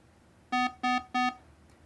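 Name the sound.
artificially manufactured beeping warning alarm sound effect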